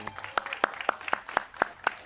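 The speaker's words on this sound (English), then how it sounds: "hopefully they're hearing our applause as well" A small crowd at a public library reopening applauds the library staff outdoors, sparse individual claps landing in a loose rhythm, close and crisp.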